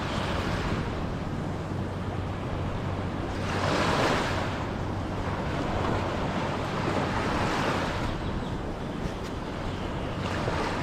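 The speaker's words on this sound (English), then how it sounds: "Yeah, I love the sound of the waves." Ocean waves wash onto a beach in Thailand in a steady, close roar of surf with wind, swelling into broader breaking crashes at intervals, and no voices heard.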